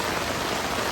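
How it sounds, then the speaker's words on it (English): Heavy rain drums on a tent while camping, a dense, steady hiss that fills the whole moment with no voices. "it's raining pretty hard right now. It's really coming down."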